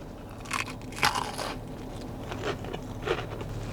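Crispy fried gau gee, a wonton-like dumpling with a pork filling, bitten at a Kaneohe, Hawaii chop suey shop, giving a few close, sharp crunches spread over a few seconds against a steady low room hum.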